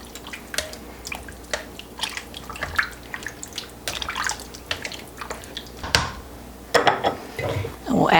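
A spoon stirs mustard and soup ingredients inside a crock pot, giving irregular wet clinks and scrapes that grow louder and sloppier toward the end, with brief liquid splashes.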